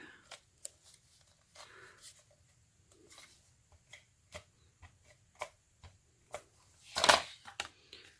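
Soft, scattered ticks and rips of tape being torn and pressed down repeat irregularly in a quiet room. A louder, brief ripping burst comes near the end.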